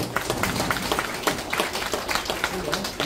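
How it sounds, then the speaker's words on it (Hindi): Applause at a first interaction programme for newly selected executive members of a workers' union affiliated with Bharatiya Mazdoor Sangh, a dense patter of clapping hands in a hall with voices talking over it. "ताली बजाइए।"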